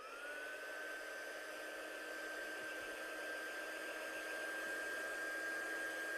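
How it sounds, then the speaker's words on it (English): A heat gun blows steadily on stencil paste on a handmade card, a constant loud whooshing roar with a faint high whine, heard on its own with no voices. "I'm just going to give this a quick blast with a heat gun just to help it set a little bit"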